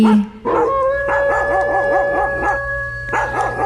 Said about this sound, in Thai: จู่ ๆบรรดาหมาวัดนั้น ก็พากันเห่าหอนขึ้นอย่างโหยหวนทันที